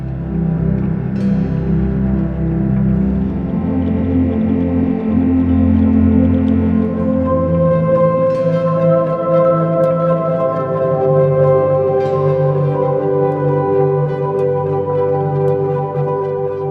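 A pad instrument built from layered collaborative sound recordings plays sustained, swelling chords that are loud and continuous, with soft higher chime-like accents drifting in over the held tones.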